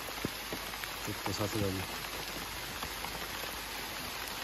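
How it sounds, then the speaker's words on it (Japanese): Rain falls steadily on a hiking trail at Oze, a soft even patter throughout with a brief spoken remark near the start. "めっちゃ雨です。"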